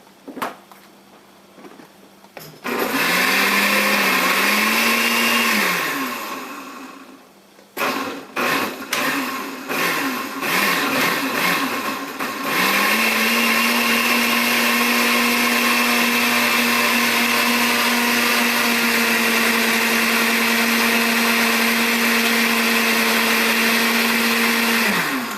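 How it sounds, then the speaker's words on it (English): A kitchen blender whirs through onion, garlic and fresh tomato. Its motor winds up, labours and drops back in several short bursts, then runs at a loud, steady, high-pitched whine right up close, with no one speaking. "I'm going to go ahead and put that on the blender."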